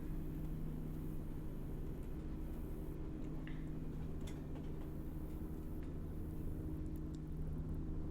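A 2012 Ford F350 ambulance drives in a video game roleplay, its engine and road noise a quiet, continuous low hum with faint ticks and knocks on top.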